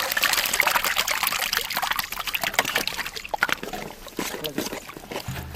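Liquid is poured into a pan while cabbage and eggs cook, giving a continuous trickling and splashing sound up close that gradually thins out, while people talk over it.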